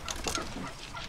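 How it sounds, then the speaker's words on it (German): A turkey gobbles and clucks in the fantasy online game New World, a brief, close burst of throaty fowl calls with some diffuse background noise. "Da ist nun Truthahn in der Nähe."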